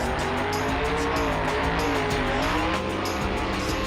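A monster truck engine in BeamNG.Drive during a Monster Jam World Finals freestyle run, roaring continuously with a wavering pitch and a steady hard drone that fits tire scrubbing, loud and unbroken throughout.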